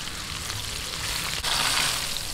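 Garlic-marinated chicken frying in oil until golden brown, a steady close hiss of sizzling that runs without pause, with no talk over it.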